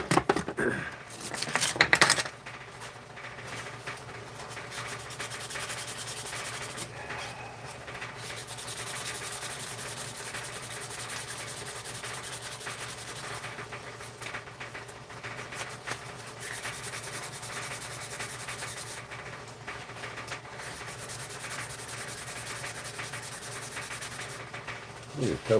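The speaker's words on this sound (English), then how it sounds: "rust can be sanded by hand" Rust being sanded off by hand with sandpaper: a continuous rasping scrub with steady back-and-forth strokes, close and moderately loud, and a few sharper scrapes near the start.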